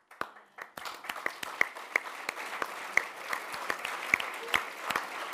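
Audience applause breaks in on a speaker at a policy talk on millennials and Washington gridlock. Scattered claps come first and swell into steady, moderately distant clapping from a crowd that carries on throughout.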